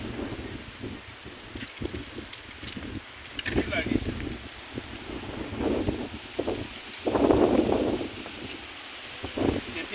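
Breeze blowing beside the Brahmaputra river at Biswanath Ghat, heard as steady wind buffeting and rustle on the microphone across the whole stretch, with gusts swelling mid-way and near the end; someone talks over it.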